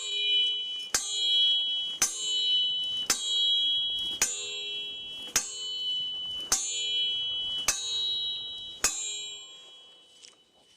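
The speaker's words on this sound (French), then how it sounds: "Ça résonne comme une cloche à cause de la vibration dessus." An Andúril sword struck repeatedly against a metal pipe rings out like a bell, giving about eight sharp metallic clangs at roughly one-second intervals, each decaying into a sustained bright resonance, loud and close with no talk.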